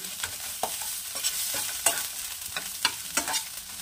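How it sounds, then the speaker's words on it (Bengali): A mustard-flower dish is stirred in a pan of hot mustard oil. Sharp scraping strokes come at an irregular rhythm over a steady soft sizzle of frying, heard up close with no voices. "নামানোর আগে একটু সর্ষের তেল আবার একটু দিয়ে একটু নাড়িয়ে নামিয়ে ফেলবো।"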